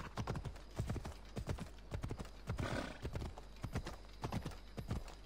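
Horse hooves clip-clop steadily in Assassin's Creed Odyssey, a continuous even trotting rhythm up close, with a brief whinny partway through and no talking.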